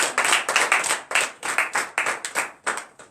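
Rhythmic clapping from a congregation at a morning prayer service, a dense crowd of hands beating in steady bursts, loud and close, with no talking over it.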